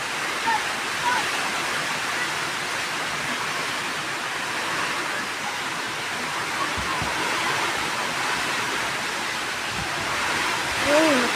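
Heavy rain pours down steadily in a broad, even hiss through an outdoor scene in late afternoon, with a brief voice near the end.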